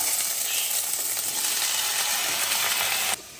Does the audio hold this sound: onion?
yes